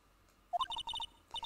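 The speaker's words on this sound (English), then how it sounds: "All of a sudden, the phone began to ring." A phone ringtone playing a short electronic melody of quick bright tones in two bursts, fairly faint and alone.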